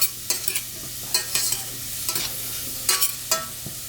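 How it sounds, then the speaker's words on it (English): Vegetables saute in a pan while a utensil stirs them, giving a steady sizzle broken by repeated scraping strokes, about eight close, quick stirs over a few seconds with no talk. "but we'll just let this saute for a minute."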